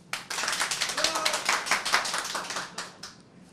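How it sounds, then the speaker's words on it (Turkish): A small group claps together in a restaurant setting, a brief burst of rapid, close hand claps that builds quickly and fades out after a few seconds, with faint voices underneath. "Bir alkışlayın."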